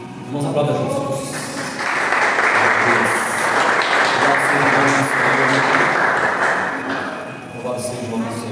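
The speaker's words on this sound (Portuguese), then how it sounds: "Vamos aplaudir Jesus." A church congregation breaks into sustained applause that swells for several seconds and then fades, with voices mixed into the clapping.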